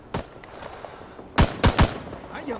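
Gunfire and an RPG go off in a jungle firefight in the Vietnam War shooter Rising Storm 2: Vietnam: one sharp shot, then three loud, closely spaced blasts with a rumbling tail.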